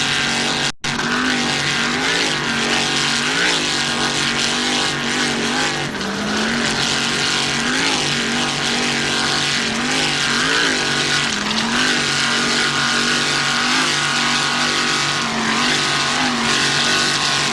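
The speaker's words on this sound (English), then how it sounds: "Archer Marine, powered by one 640-horsepower Mercury engine. Archer Marine just screaming around this course." Racing powerboat, a 26-foot Wellcraft driven by one 640-horsepower Mercury engine, screaming around a Key West championship course; a loud, sustained high-revving engine roar with wavering pitch throughout, steady and close.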